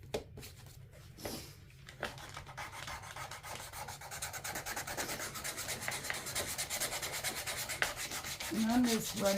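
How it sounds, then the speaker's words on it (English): A quick electric sander runs steadily over a Valentine's craft piece, producing a continuous buzzing rub that slowly grows louder toward the end. "I'm just running my quick sander over it."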